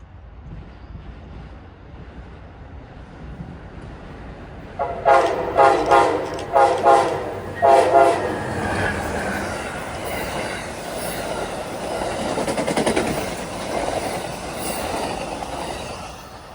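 Amtrak Palmetto train led by an ALC 42 locomotive passes close by, sounding several loud horn blasts before a long, steady rumble of rail cars and wheels rolling past, with faint squeals.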